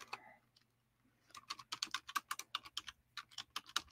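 Rapid, irregular keystrokes on a computer keyboard, close and crisp, start after a brief quiet pause and continue in quick bursts with no talking.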